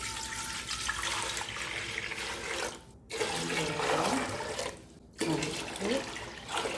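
Water pours steadily into a pot in several long streams separated by brief pauses, a rushing, splashing sound heard up close.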